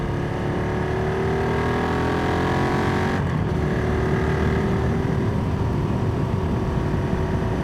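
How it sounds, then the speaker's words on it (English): A car drives past on a narrow German street, its engine tone sliding steadily downward as it goes by, loud and close over a constant low rumble, with no talk. "Oh no, another car."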